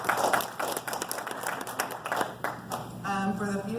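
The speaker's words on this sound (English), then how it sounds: "here's another water board candidate we should applaud" A roomful of people applauds a water board candidate, scattered handclaps blending into modest, uneven applause for about three seconds before a voice starts speaking over the fading claps.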